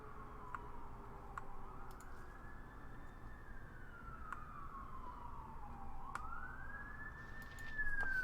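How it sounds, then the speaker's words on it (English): Emergency sirens wailing outdoors at night, a single faint distant tone sweeping slowly up and down in long cycles, with occasional clicks in the foreground and a brief louder rise near the end. "Oh, there's a lot of sirens tonight."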